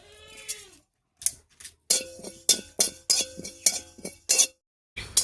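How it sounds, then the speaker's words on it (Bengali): A metal utensil clinks against a pan while whole cumin dry-roasts, giving a string of sharp, bright, evenly spaced strikes after a brief softer scrape, close and clear with short gaps of silence. "শুকনো খোলায় 1 চামচ মতো গোটা জিরা ভেজে নামিয়ে নিচ্ছি"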